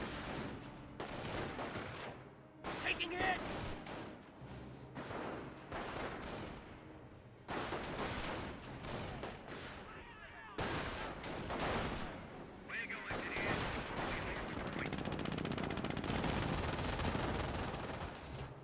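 Rifle volleys crackle through a Company of Heroes battle, with bursts of gunfire and louder blasts layered over busy combat noise throughout.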